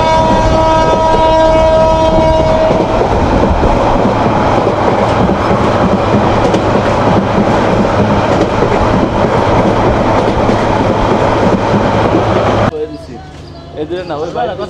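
Saikat Express train running through Islamabad railway station with a loud continuous rumble and rattle, a long horn tone at the start, close and steady before fading into softer ambient noise at the end.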